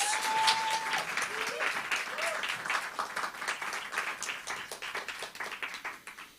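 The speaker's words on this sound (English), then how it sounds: "A round of applause for our first three speakers." Applause for the first three speakers at a learning city event on lived experience and lifelong learning: dense, sustained clapping from a gathered audience that gradually thins toward the end, with a few faint voices beneath.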